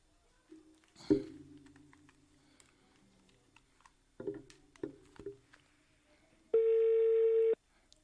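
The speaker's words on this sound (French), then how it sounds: "je pense que le téléphone il sonne" A telephone rings in a radio studio, with a few short tones and clicks followed by one long steady electronic ring near the end, heard alone without talk.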